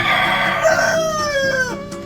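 A rooster crows loudly and close by in a chicken coop, its drawn-out call rising and falling over the soft clucking of hens kept on an egg-laying stimulant.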